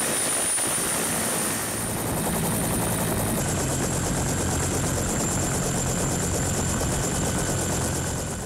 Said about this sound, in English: Sri Lanka Air Force also joined the mission, providing a Bell 220 helicopter.